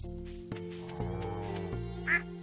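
Ducks quack in the farming game Stardew Valley, several short nasal calls in a row at moderate volume, ending with a brighter chirp.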